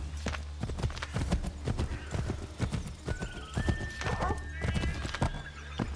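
Rhythmic clip-clop of horse hooves trotting in the video game Assassin's Creed III, followed by a high neighing whinny; a voice talks intermittently over the hoofbeats.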